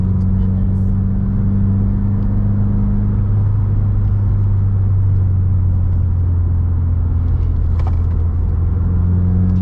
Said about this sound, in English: Exhaust is burbling